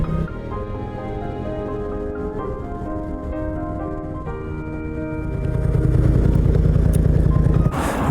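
A BMW C650GT maxi scooter engine idles steadily with a low hum, then rises into a louder, rougher drone for the last few seconds, close by and without talking.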